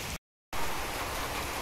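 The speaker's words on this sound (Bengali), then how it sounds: "এই যে দেখেন বৃষ্টি পড়তেছে, দেখছেন।" Rain falls steadily on a rooftop, a dense, even hiss of drops after a short silent break near the start, with no voices.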